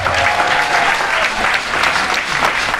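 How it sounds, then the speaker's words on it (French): A crowd at a gathering in Côte d'Ivoire bursts into loud, sustained applause, a dense continuous roar of clapping that stays strong and even from start to finish. "On l'applaudit."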